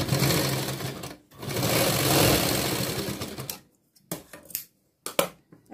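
Sewing machine stitching a princess cut blouse, running in a long steady whir for several seconds, then pausing and starting again in a few short bursts close by.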